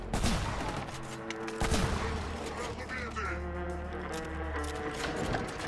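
Rapid gunfire and fusillade bursts in the shooter game Killzone: Shadow Fall, loud and continuous across the whole stretch, with layered shots and a low rumble underneath.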